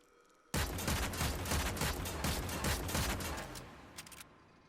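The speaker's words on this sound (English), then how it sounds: "basically this weapon is a shotgun secondary" The Mara Detron secondary shotgun fires in rapid succession in the video game Warframe, giving a loud, dense, crackling barrage of blasts that lasts about four seconds and then tapers off, with no talking.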